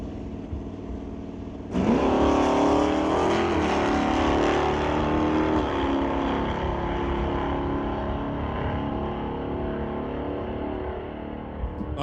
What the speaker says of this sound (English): Dials the Subaru Outback in at 1540, while the Lord Kawada Parts Dodge Dart of Veronica Hodgson will dial in at 1190